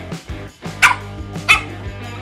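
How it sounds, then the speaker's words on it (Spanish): A dog in a Poppy Playtime Chapter 3 game scene barks twice in sharp, loud bursts with softer yips and whimpers between them, close by and heard alone with no talk. "Te he dicho que no ladres."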